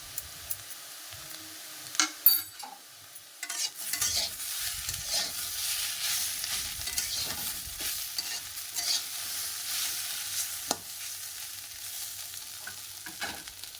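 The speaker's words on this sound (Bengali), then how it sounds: "এই তো আলু ভাজা বানাচ্ছি" Potatoes frying in a pan, a soft steady sizzle that rises after a few seconds of quiet, punctuated by sharp scrapes and taps of a spatula stirring.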